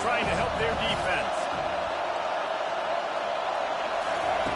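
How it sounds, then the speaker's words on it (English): A packed college football stadium crowd roars steadily during the USC vs UCLA game, a loud, dense wall of noise with a faint announcer-like voice early on. "Listen to this crowd just shaking the girders of this place, trying to help their defense."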